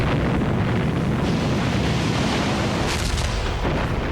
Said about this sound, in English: German artillery and machine guns opened fire.